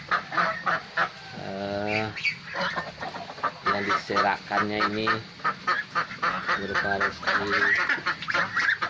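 A flock of ducks on a duck farm, let out of their pen, keeps up a dense, nearby chorus of rhythmic quacks and honks while a person speaks over them.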